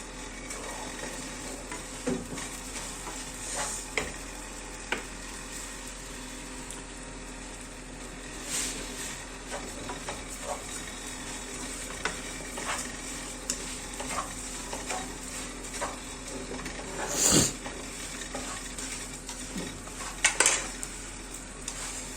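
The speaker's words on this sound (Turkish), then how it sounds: "Şimdi bulgurumuzu ekliyoruz." Bulgur being added and stirred in a frying pan for türlü, a quiet steady sizzle under repeated scraping strokes of a utensil, with a couple of sharper clinks of metal on the pan near the end, no talking.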